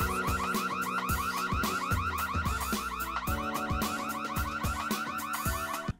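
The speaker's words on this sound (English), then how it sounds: "She sounds the alarm, and a teacher rushes over to her protection." A personal safety alarm shrieks continuously nearby, a loud warbling electronic siren with rapid pulsing tones sustained for several seconds before cutting off abruptly.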